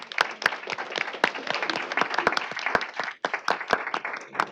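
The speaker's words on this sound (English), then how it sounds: "Please give our presenters a round of applause." Audience applause for presenters at a Michigan State Board of Education meeting, a steady crowd of clapping hands with sharp individual claps standing out, briefly dipping near the end before swelling again.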